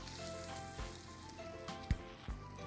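A hot dog sizzles in a frying pan in the VR game The Cooking Game VR, a steady quiet crackle over a game music bed, with a couple of soft thuds as the pan is handled.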